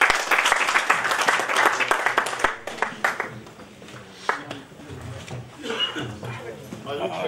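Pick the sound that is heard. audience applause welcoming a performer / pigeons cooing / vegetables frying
audience applause welcoming a performer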